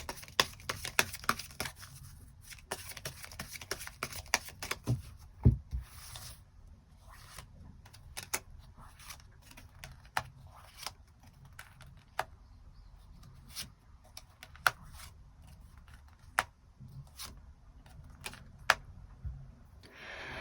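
Tarot cards are shuffled and drawn in short bursts of soft riffling and flicking, with scattered crisp taps and slaps as cards are laid down, quiet and close with no talking.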